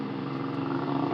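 A passing motorcycle on a street drones steadily and close by for a moment, a low, even hum with no talking.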